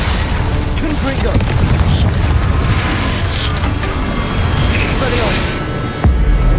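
Confringo spell blasts go off in Hogwarts Legacy, a loud, rumbling stream of booming explosions and crackling bursts that runs continuously, with a sharper hit near the end.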